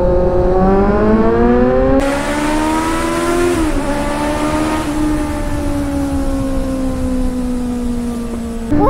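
A Kawasaki Z900 motorcycle accelerates hard along a highway, its engine note climbing steeply through a gear, dropping at the shift, then rising steadily again under heavy wind rush, loud and close.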